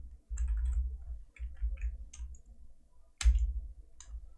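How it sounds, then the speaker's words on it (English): Keys on a computer keyboard tapped in quick irregular bursts with short pauses, close and clear, while working in a terminal text-editor setup, with one louder clack near the end and no talking. "Then I start typing."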